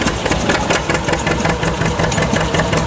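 An old vehicle engine that has had engine work done, running at a rough, pulsing idle with an uneven chug, close and loud, with no talk.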